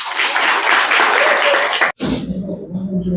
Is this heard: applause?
yes